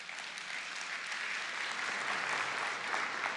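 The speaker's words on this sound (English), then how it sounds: "You can clap for it." A conference audience at Microsoft Build claps for an announcement, a full, steady round of applause that fills the hall and stays even for a few seconds, with no talking over it.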